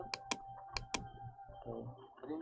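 Several crisp keystrokes on a computer keyboard while a SQL query is entered, four sharp clicks early followed by softer, quieter tapping, close and faint.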